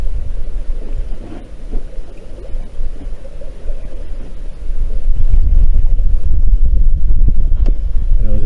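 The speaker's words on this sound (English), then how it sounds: "just trying to do it with sailing alone after all the motoring yesterday" Sailboat under sail alone between Stromness and Plockton, heavy wind buffeting the microphone with a rushing low roar of water and hull, growing stronger midway, no voices.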